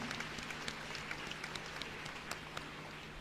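Faint, distant applause from a church feast audience, a soft patter of scattered claps under a low steady hum, fairly quiet throughout.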